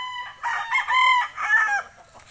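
A game fowl rooster crows once, loud and close, a strident multi-part cock-a-doodle-doo that rises and falls before cutting off into quiet.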